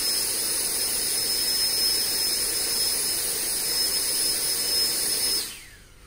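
A Sprite electric ducted fan runs on a load cell test rig, a loud steady high-pitched whine with a constant roar that holds for several seconds, then spins down and fades near the end.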